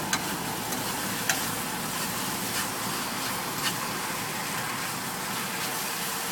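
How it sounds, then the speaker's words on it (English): Spicy beef noodles being stirred in a hot pan, a continuous close sizzle with faint scraping and soft clinks of the utensil, no talking. "Alright, so you just stir that in a little bit."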